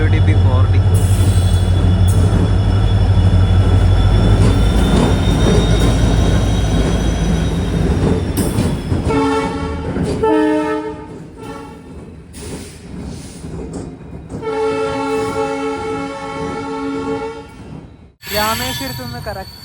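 A decorated WDP 4D diesel locomotive hauling a passenger train to Tiruchirappalli rumbles loudly, then sounds several sustained horn blasts in the second half before the noise drops away.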